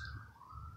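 An ambulance siren wails steadily through the short clip in the early morning, fairly clear over a low rumble of background noise, with no voices.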